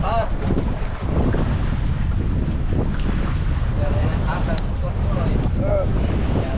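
A boat engine drones steadily beneath heavy wind buffeting the microphone, with surf and sea noise mixed in and a few faint voices scattered through.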